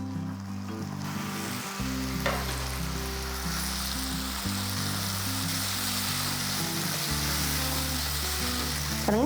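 Onions and tomatoes sizzle loudly and continuously in a pan for a fish curry, a dense frying hiss running throughout beneath steady background music, with an occasional stir.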